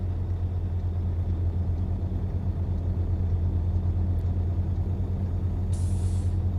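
A Mack R Series truck engine in American Truck Simulator drones at a steady low rumble while cruising in second gear, with a brief hiss of air near the end.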